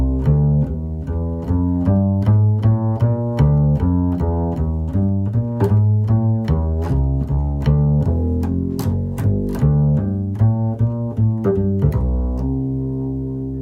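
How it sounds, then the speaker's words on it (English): A plucked bass walks steadily in even quarter notes, each note clear and separate, with a few light upper tones, playing alone for several bars before settling on a held note. "So the first 8 bars of a walking line"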